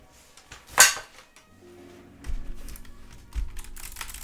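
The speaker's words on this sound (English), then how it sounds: "I like the sound of these keys better." Keys on a Corsair K95 or Logitech G815 mechanical keyboard give a sharp clack followed by a few softer, sparse taps and dull knocks, close and quiet.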